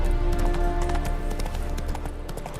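Rapid horse hooves clip-clop in a steady gallop rhythm in the video game The Witcher 3: Wild Hunt, over a low rumbling background hum, close and continuous.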